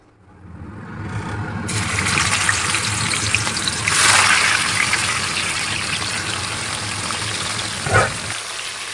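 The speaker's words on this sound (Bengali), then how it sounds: "তো তেলটা গরম হয়ে গেছে, এবার এর মধ্যে আমি চিকেনটা অ্যাড করে দেবো।" Boneless chicken pieces go into hot oil with a loud, steady broadband sizzle that keeps going for several seconds, swelling around the middle and then fading to a quiet hum. No one speaks.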